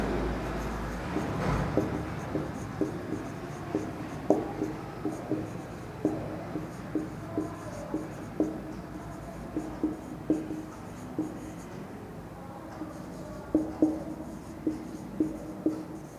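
A pen scratches out a math solution by hand on paper in a quiet room, a series of soft, close, repeated strokes and taps at an uneven rhythm.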